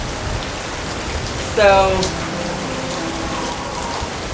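Steady rain falls on a homestead pasture, a constant close hiss of drops with a brief spoken word partway through.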